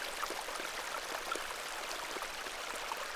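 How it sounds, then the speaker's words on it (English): A small beck burbles steadily in the video game The Excavation of Hob's Barrow, a soft, even rush of water with faint trickling detail and no break. "This is a lovely little beck. It's where we get our water, miss."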